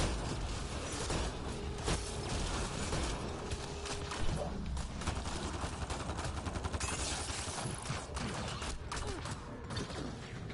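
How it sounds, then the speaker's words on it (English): Shotgun fire in the sci-fi shooter Mass Effect: Andromeda: loud, dense bursts of blasts and mechanical clatter run almost without pause through a chaotic combat mix, with no voices. "I am going to use this opportunity to shotgun the fuck out of you"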